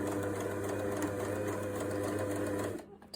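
A sewing machine stitches a reversible bucket hat with black top thread and red bottom thread, running in a steady close whir for nearly three seconds before stopping abruptly, followed by a faint click.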